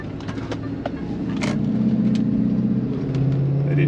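A Chevy Tahoe 5.3 truck engine rumbles up into a deep, building intake roar, steady and close, with a few sharp clicks and hisses over it.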